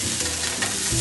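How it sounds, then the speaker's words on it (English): Meat browning in a pan for a meat loaf, a steady sizzle and frying hiss with stirring scrapes, fairly close and continuous with no talk. "what we're doing here is browning the meat that we set aside earlier"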